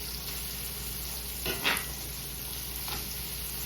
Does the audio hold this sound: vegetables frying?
yes